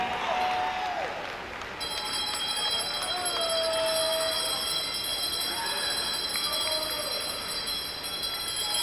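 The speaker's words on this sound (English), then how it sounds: "More bells ringing all around." Bells ring for the final lap at a junior swimming championship 1650 freestyle race, clanging repeatedly from poolside amid a constant loud crowd roar and cheering in an echoing natatorium, with steady high-pitched ringing tones layered throughout.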